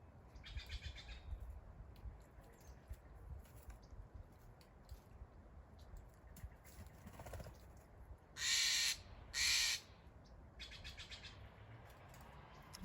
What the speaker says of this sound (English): Enjoy the sounds of the birds.